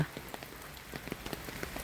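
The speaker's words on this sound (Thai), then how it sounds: "เพราะว่ามันฝนตก" Rain falls on a garden during a storm, a steady patter of individual drops striking nearby surfaces, soft and continuous with no voices.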